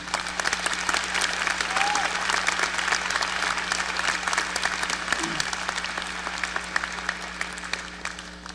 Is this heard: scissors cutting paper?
no